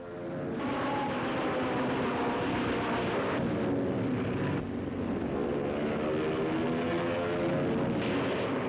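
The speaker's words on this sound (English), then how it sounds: "With machine guns blazing, the Yanks fly their planes superbly in dangerous flying country." American military planes fly over enemy positions in Korea, with a steady, loud engine roar that stays constant throughout, like sound recorded from inside or close beside an aircraft.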